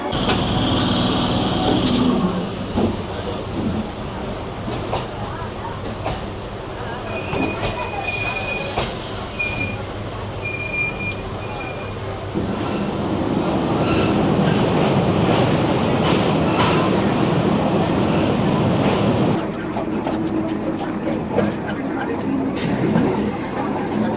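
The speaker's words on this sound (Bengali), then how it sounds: "7:40-এর গেদে লোকাল। আমরা এই গেদে লোকাল ধরেই কিন্তু এখন যেতে হবে মাঝদিয়ার উদ্দেশ্যে।" A Gede local passenger train in West Bengal rumbles steadily from onboard, with wheels squealing and clattering on the rails throughout as passengers talk.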